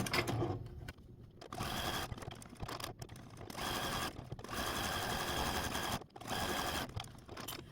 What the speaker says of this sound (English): I can go ahead and zigzag all the way up to that top corner and just cut the thread